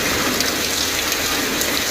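Heavy rain driven by wind in the Chennai area, a loud, dense, steady hiss of downpour filling the whole stretch with no voices.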